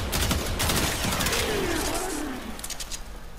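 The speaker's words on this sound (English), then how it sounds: "Burst fire." The Tiberon Prime rifle in the Warframe video game fires in burst mode, a short cluster of sharp electronic shots at the start over a steady layer of game ambience.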